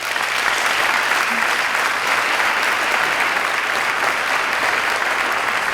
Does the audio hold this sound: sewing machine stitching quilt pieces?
no